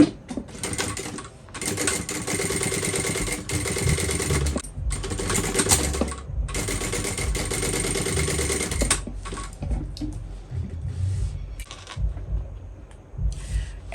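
A sewing machine top stitching fabric bag straps for a bowler bag, with rapid mechanical bursts of stitching broken by brief pauses, loud and close, no talking.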